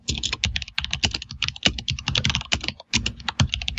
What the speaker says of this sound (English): I'm typing obviously to remember.